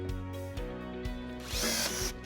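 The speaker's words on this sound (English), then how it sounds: "Drill out the 2 holes with a 3/16 drill bit." A power drill whines steadily with brief pitch dips as a 3/16-inch bit drills holes for a trailer wiring bracket on a Nissan Rogue, rising into a harsher, louder grind near the end.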